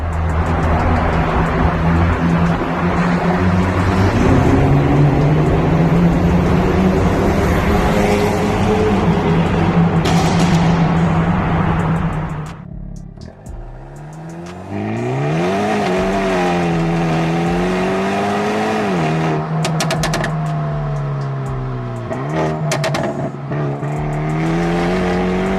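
A Hyundai i30 N DCT's exhaust roars loudly and continuously inside a tunnel, echoing as if enclosed, with rising and falling revs and a brief dip midway before the drone resumes.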